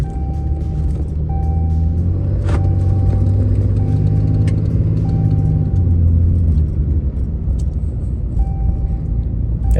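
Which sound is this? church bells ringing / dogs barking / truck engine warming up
truck engine warming up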